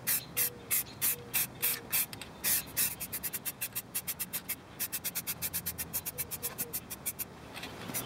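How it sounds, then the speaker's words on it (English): An aerosol can sprays paint onto brake calipers in a rapid series of short hissing bursts, spaced steadily at first and then quicker and more even, close to the can. "I'll continue spray painting."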